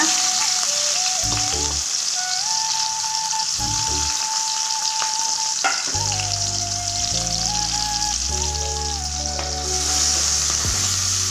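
Loud, continuous sizzling of chopped garlic, ginger and green chili frying in hot oil, with occasional stirring and pan scrapes, close up with no talking.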